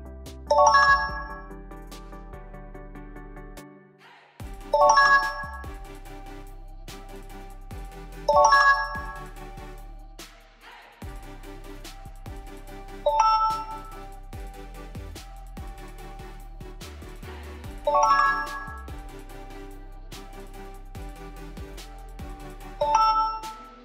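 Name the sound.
Samsung One UI 7 phone charging sound effect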